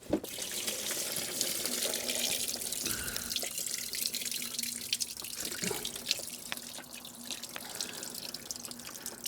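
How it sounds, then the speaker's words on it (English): Coolant draining out through a hose from a Subaru STI cooling system, a steady close trickle and splash of liquid running continuously with a faint drip now and then, no talking. "Right now it's only draining out the hose"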